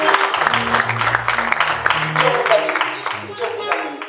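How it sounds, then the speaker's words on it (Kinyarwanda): A church audience claps for a man named Frank, with scattered applause running under a loud voice that keeps talking throughout. "reka tumukomera amashyi."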